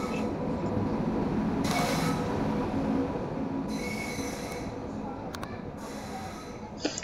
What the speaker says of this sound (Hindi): तो ये आ गई हमारी ट्रेन।